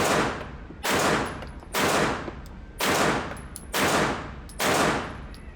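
Pistol shots from a Canik Prime Radian fired at a target at 7 yards: six loud, evenly spaced booms roughly a second apart, each with a long ringing decay that fills an outdoor range.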